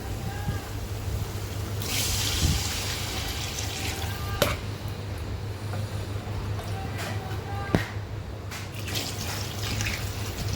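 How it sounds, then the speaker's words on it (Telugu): Water is poured into a pot for bagara rice, producing a steady, close rush of liquid with a few faint clinks over a low background hum. "దీంట్లో 1కి 2 వాటర్ పోసుకుంటానండి నేను."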